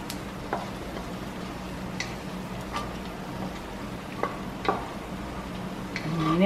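Potato pieces frying in a pan with cooked onion, a soft steady sizzle broken by a few light ticks and scrapes of stirring, with no talk.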